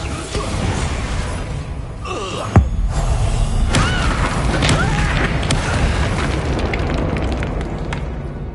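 A spell blast from the Expulso curse in the video game Hogwarts Legacy, one sharp booming burst early on, then rumbling explosive debris and combat noise that continue loudly afterward.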